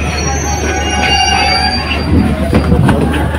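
A train at Vishalgarh railway station rumbles loudly and continuously nearby, with a high wheel squeal running throughout.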